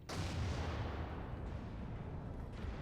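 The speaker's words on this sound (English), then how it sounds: "Keep the big guns firing." Heavy artillery firing in the World War II strategy game Order of War, a dense, rumbling barrage of booms that stays loud and continuous throughout with no talking over it.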